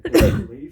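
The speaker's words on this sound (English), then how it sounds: "I'm sorry if you can hear coughing in the background." One short throaty cough or throat clear in the background indoors, a quick burst that fades out, with a voice speaking briefly.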